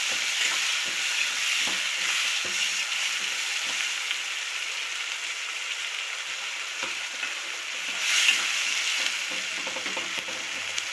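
Onions and tomatoes fry in a pan with salt in an Indian home kitchen, giving a steady broadband sizzle with occasional stirring scrapes and a brief louder flare near the end.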